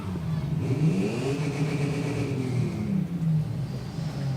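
At a July 4th parade, a truck engine revs up in a rising and falling roar, holding a deep rumble for a few seconds before settling back, loud and fairly near.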